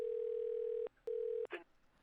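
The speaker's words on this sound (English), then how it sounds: "That's the voicemail intro." Voicemail intro tone sample from a sound pack played in a music beat: two long steady electronic beeps, each cut off sharply, separated by a short gap, followed by a brief burst of noise, loud and clear with no talking.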